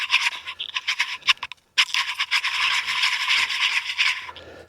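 A crank-handle reel winding up antenna wire that binds and resists, giving close, bursty scraping and ratcheting rasps with one brief pause and then a longer grinding stretch, no voices.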